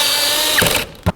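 A power drill drives a mounting screw into the door of a 2002-08 Dodge Ram 1500 pickup, giving a short, close whir that stops, then one sharp click.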